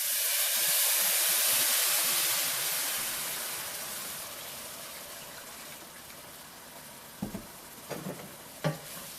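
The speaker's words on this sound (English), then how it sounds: "And now I'm going to add some broth to the mix." Broth hits a hot pan with cube steak in a loud burst of hissing sizzle that slowly settles into a quieter simmer, followed by a few sharp utensil clinks.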